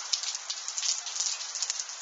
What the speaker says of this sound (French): Toujours un peu de grêle qui tombe.